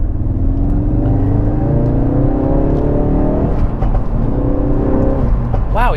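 A Mk3 Ford Focus RS pulls hard to overtake a van, its engine note climbing steadily and loudly from inside the cabin, dipping briefly at a gear change before rising again under constant road noise.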